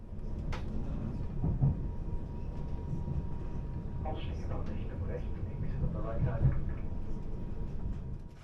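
An ÖBB Railjet high-speed train rumbling steadily along the rails at about 200 km/h in Austria, a low continuous roar with occasional rattles and creaks from the carriage.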